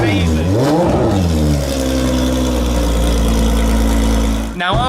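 Ferrari supercar with a side-exit exhaust: a sharp rev swells and falls, then settles into a steady, deep, loud drone, with another quick blip at the end.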